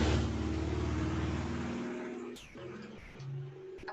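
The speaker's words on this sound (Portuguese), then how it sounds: "Aproveitei que passou um carro barulhento para beber água." A loud car passes close by outdoors, its broadband engine and tyre roar swelling at first and then fading away over a few seconds, while a bird's call is heard faintly afterward.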